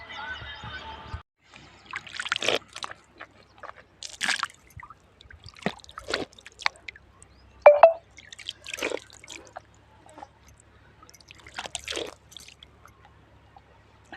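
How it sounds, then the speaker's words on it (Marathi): Water runs close by in a cool stream with intermittent drips, splashes and squishy gurgles spread across quiet gaps, fairly near and soft. "जवळ पाणी झुळझुळ झुळझुळ गार"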